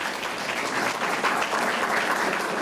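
A roomful of people at a parents' council meeting giving a steady round of applause, dense continuous clapping throughout.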